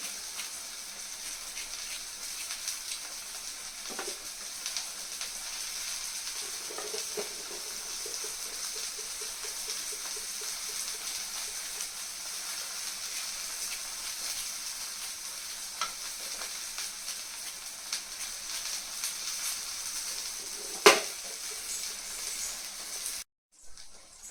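Sliced okra frying in a nonstick pan over a low gas flame, giving a steady, soft, even sizzle with occasional faint stirring clicks and scrapes, no voices.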